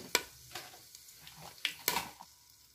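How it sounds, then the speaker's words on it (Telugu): Cloves and a bay leaf frying in hot oil for soya chunks biryani, a soft sizzle broken by a few sharp spatula clinks against the pan, close and fairly quiet. "4-5 లవంగాలు, 1 బిర్యానీ ఆకు వేసి వేయించుకోవాలి."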